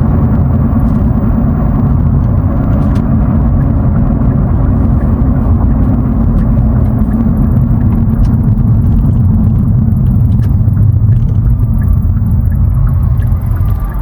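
A Hyundai Veloster N on the road gives a steady low engine and road rumble from inside the cabin, constant and fairly loud throughout, with no talking.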